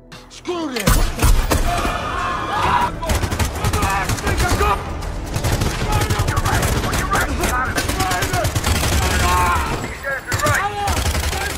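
A film battle between terrorists and special forces erupts into dense gunfire, rapid overlapping shots and automatic bursts with heavy thumps, loud and continuous for over ten seconds.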